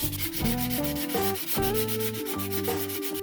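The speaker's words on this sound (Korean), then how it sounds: "스틱 사포로 한번 더 다듬어 주겠습니다." Steady, rhythmic scraping of two sanding sticks rubbed back and forth over hard red 3D-pen plastic filament, close up and continuous with no talking.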